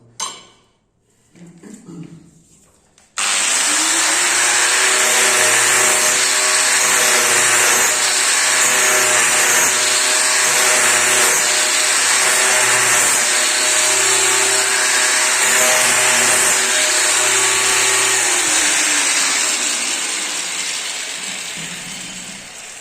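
Angle grinder fitted with a diamond polishing pad chamfers the edge of a ceramic tile, a loud steady whine that runs continuously for about twenty seconds after a brief quiet start, tapering slightly at the end.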